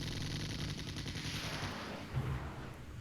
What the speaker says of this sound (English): Surface-to-air missile launch.